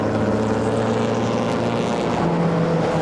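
Historic racing cars, a Bentley and a Riley, roar past at a London Historic Trophy race, a loud, steady engine drone with layered exhaust tones sustained throughout and no pauses.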